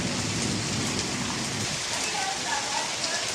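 Steady heavy rain hisses close by, with a low rumbling murmur in the first half that fades away.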